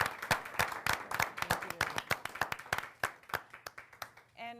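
A small audience claps for a guest speaker at a brand-building event, distinct individual claps in an uneven rhythm thinning out, with a faint voice at the very end.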